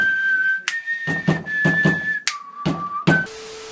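A short whistled four-note tune from The Hunger Games plays as a ringtone, clear and close, with soft tapping thumps between the notes.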